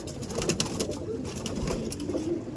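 Pigeons cooing inside a loft in Behala, soft repeated throaty coos close by, overlapping in a low, continuous murmur.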